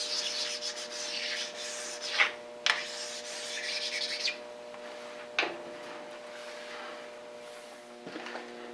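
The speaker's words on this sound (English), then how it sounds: "just want to give it a quick little stone. Make sure there's no burrs." A sharpening stone rubs over the square edges of a ground steel square, a close, steady scraping and rasping broken by a few sharp knocks, with a faint mechanical hum underneath.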